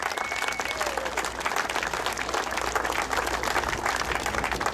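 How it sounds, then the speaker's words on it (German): Steady, dense applause from an audience at the Super Corvette Sunday 2013 car event in Buchs, with a few whistles early on; loud and continuous throughout. "Noch einmal ein Applaus für alle, die da mit dabei sind."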